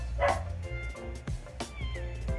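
A dog barks indoors in a few sharp, close yips and bow-wows spread irregularly across the moment, loud over a low background hum.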